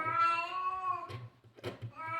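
A cat gives a long, drawn-out meow nearby, followed by a few shorter mews, with soft thumping in the background.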